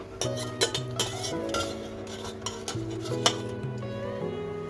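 A metal ladle scrapes and clinks against a pot while Kolkata-style chicken biryani is stirred, giving several distinct metallic taps and scrapes over a faint hum, close and moderately loud.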